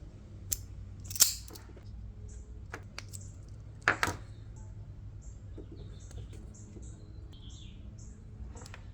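A wire connector goes onto a hot wire during a lighted switch installation in a vehicle dash, with a couple of brief, sharp crimping clicks over a faint low hum and no talk.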